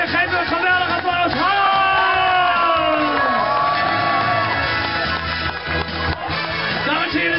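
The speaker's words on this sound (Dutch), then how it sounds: "dames en heren, geef me een geweldig applaus" Audience at a New Year's Eve show at Walibi World cheers and whoops loudly, a dense crowd roar with shouts over music-like tones, no clear clapping pattern.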